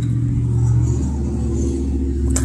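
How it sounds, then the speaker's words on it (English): A lawn mower engine starting up on a farm, heard as a steady low engine rumble throughout with a brief sharper noise near the end, close and fairly loud with no talking. "I just starting that motor, starting the mower up."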